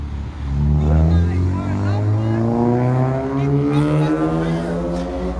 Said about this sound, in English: Excuse the car noises in back.